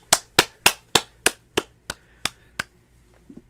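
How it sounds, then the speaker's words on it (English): At a piano bar reunion show, about ten sharp, separate claps land at a gradually slowing pace and fade in strength, followed by a couple of faint, softer taps. "Now you can clap. You can clap now."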